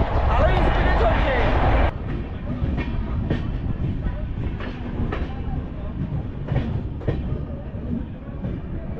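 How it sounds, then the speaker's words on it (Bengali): A passenger train on the Kolkata to Shimla route runs at speed, a loud roar for the first two seconds easing into a steady rumble with irregular clacks and knocks. "আমাদের ট্রেনও কিন্তু এখন ভালোই স্পিডে চলছে।"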